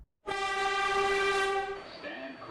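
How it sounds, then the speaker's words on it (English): A malfunctioning R142 subway train in the Openbve simulator, near Parkchester, lets out a loud, sustained, high-pitched metallic screech that starts abruptly, holds for over a second, then fades into a softer rumble. "this one is basically having mechanical issues and is screeching"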